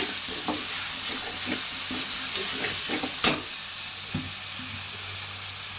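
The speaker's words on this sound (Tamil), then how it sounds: "இப்போ நம்ம கொஞ்சம் ஒரு நாலு கொத்து கருவேப்பிலை ஆட் பண்ணுறோம் அதை ஒரு நல்லா வணக்குங்க" About four sprigs of curry leaves fry in a pan of oil for Tamil-style egg curry, with a steady close sizzle and soft scrapes and taps of stirring and no talk.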